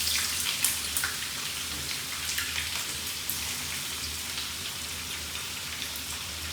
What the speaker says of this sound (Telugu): ఫస్ట్ వచ్చేసరికి నేను ఆనియన్స్ అన్నీ ఫ్రై చేసేసుకుంటాను.